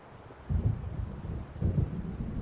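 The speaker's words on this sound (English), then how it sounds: "It seems there's a storm coming." Deep thunder from an approaching storm in the Alan Wake video game rumbles in two low rolling swells over a continuous bed of wind and rain, with no voices present.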